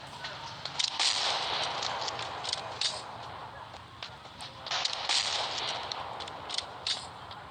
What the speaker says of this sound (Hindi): निकालो रॉकेट लॉन्चर, उड़ाओ।